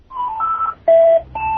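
A phone gives off a short run of pure electronic beeps at shifting pitches, close and fairly loud, like a tinny ringtone melody, with no voices over it.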